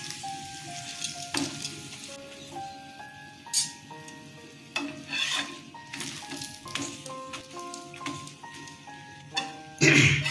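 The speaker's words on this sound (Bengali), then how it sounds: "দেখুন তেল দিয়ে ভাজছি, কেমন ফুলে উঠছে" Yogurt paratha frying in hot oil gives a steady crackling sizzle throughout, broken by several louder bursts of spattering as the flatbread puffs, close and fairly loud.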